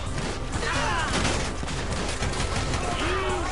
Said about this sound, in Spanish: ¡No me puede matar con la escopeta de un solo balazo!